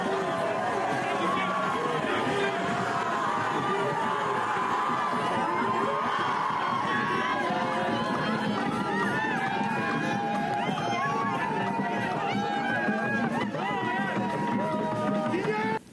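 A huge crowd of fans and family welcomes footballer Kylian Mbappé at Yaoundé airport, with dense continuous chatter, shouts and whoops that stay loud throughout, and many voices talking over one another.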